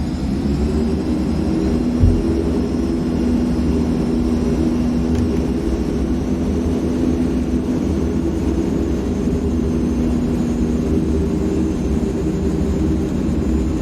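The engines of a C160 Transall at takeoff power in a flight simulator give a loud, steady turboprop drone with a constant low hum and a faint high whine that runs unbroken throughout.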